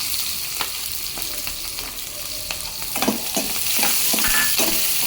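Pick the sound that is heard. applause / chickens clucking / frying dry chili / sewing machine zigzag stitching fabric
frying dry chili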